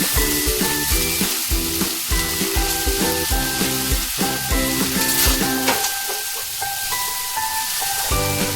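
Vegetables frying in a pan for semolina chow mein, a steady hissing sizzle alone with no voices, under a loud repeating background melody that dominates the first part.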